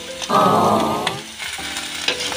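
Vegetables stirred in an old, roughly twenty-year-old frying pan: a loud sizzle bursts in near the start and fades, followed by scraping and clinking of the utensil against the pan.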